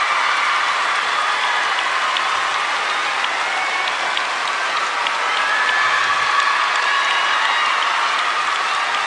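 Arena crowd at a Japanese national figure skating championship roaring and applauding Daisuke Takahashi's free skate, a dense, loud, continuous wash of clapping and cheering with no break throughout.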